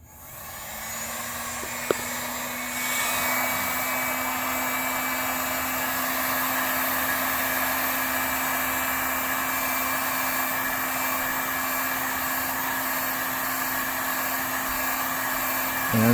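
A heat gun set to high heat, used on the exhaust of a 1994 Acura Vigor GS, blows with a steady, loud, hair-dryer-like rush and a constant whine for the whole stretch, with no talk.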